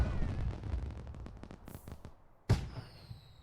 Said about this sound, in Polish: Oglądajcie fajerwerki, dzieci.